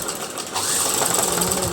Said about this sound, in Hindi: अटैच होने के बाद हम इसको ऊपर ला के वैसे ही एक पट्टी स्टिच लगा देंगे ऊपर से।